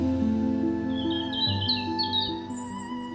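A nightingale sings bright, rising chirps and trills over sustained orchestral tones, set within a narrated fairy tale about an emperor.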